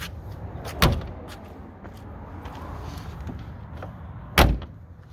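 Door of a 1956 English Ford Anglia car being shut, two solid closing thumps with a metallic latch, the first near the start and the second near the end, close and loud with quieter handling sounds between.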